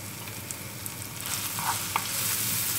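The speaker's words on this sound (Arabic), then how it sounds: "البصله بدا كيتشحر" Onion frying in a covered skillet gives a steady, faint sizzle with a few small crackles and pops.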